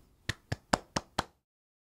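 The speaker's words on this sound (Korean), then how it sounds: "박수." Five sharp hand claps in an even, quick rhythm, close and fairly quiet, then silence.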